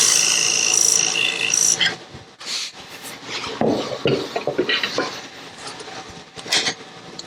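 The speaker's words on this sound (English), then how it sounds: "We're going to have to use our gouge because it's a little too tight for this." A woodturning gouge cuts into a wooden lidded box spinning on a lathe, giving close, continuous scraping and rasping with bright bursts, a short lull near the middle, then renewed choppy cutting strokes.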